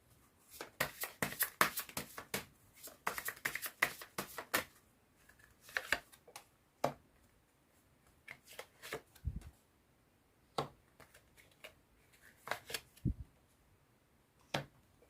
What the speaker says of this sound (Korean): 마지막으로 조언점 카드 뽑아보도록 할게요